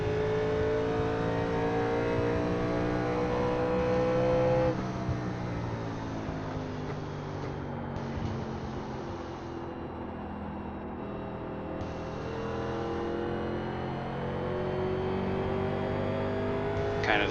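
A 1987 NASCAR stock car in iRacing holds steady throttle at WWT Raceway (Gateway), its loud, buzzing engine drone shifting pitch slightly as the car runs through the corner.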